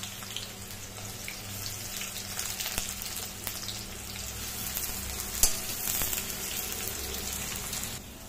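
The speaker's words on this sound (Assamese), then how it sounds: "এয়া মই পিঁয়াজখিনি ভাজি ল'লোঁ" Soft, steady sizzling of onions frying in mustard oil, quiet and continuous, with a few faint clinks and scrapes.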